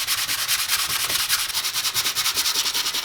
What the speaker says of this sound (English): because you're only using a small section of the sandpaper to sand one specific area